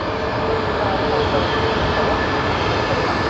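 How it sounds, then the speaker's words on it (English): A LATAM Airlines jet airliner in Harry Potter livery arrives at Sydney Airport from Santiago, its engines making a steady broadband roar at moderate distance, with voices talking over the noise throughout. "getting the Harry Potter livery of LATAM Airlines that has just come in from Santiago"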